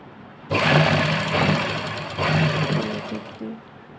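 A sewing machine stitches an old t-shirt, two close bursts of rapid mechanical whirring with a brief pause between and a short final burst, fairly loud with no talk.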